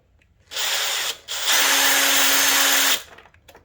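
A power drill whirs in two bursts while joining a reinforced poly V belt for an industrial sewing machine, a short one and then a longer, steady run, loud and close in an otherwise quiet space.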